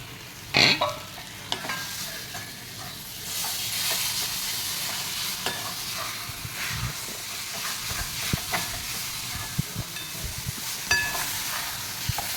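Finely chopped eggplant for bharit goes into a hot pan with a sharp clatter, then steady sizzling and frying continue under intermittent scrapes and knocks of a spoon stirring it.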